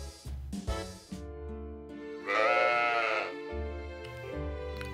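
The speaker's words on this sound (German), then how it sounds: "Ein einsames Schaf." Sheep bleating in the farming video game Story of Seasons: Pioneers of Olive Town, a loud, wavering bleat of about a second standing alone amid game background music.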